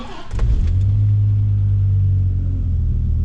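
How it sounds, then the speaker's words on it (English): A Dodge Viper V10 engine starts with a quick crank and settles into a deep, steady idle rumble, loud and close, with no revving. "the world's most quiet V10"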